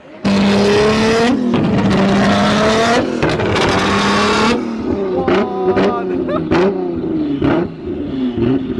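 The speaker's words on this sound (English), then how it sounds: "There's cars over there getting revved." Several cars revving their engines in a parking lot full of Porsches and Lamborghinis, loud sustained roaring bursts that rise and fall, followed by shorter sharp revs with crackles.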